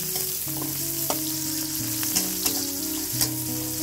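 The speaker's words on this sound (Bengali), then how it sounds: "এভাবে ভালো করে একটু ভেজে নেব।" Chopped onion and garlic fry in soybean oil for a bottle gourd stir-fry, giving a continuous close sizzle and crackle with a few faint stirring clicks and no talking.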